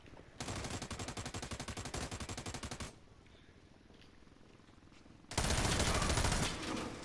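Automatic gunfire in America's Army: Proving Grounds rattles in a long, steady, rapid burst, pauses for a quieter stretch of faint rattling, then resumes as another loud, close sustained volley.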